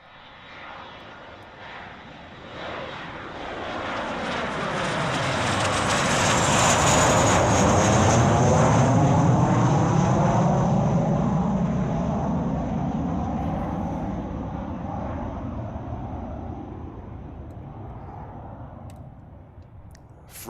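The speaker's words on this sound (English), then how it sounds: "Let me see if I can get the jet flying." A jet aircraft sound effect plays during a livestream: a loud, steady roar that swells as the plane approaches, peaks midway, then slowly fades as it passes, with no talking over it.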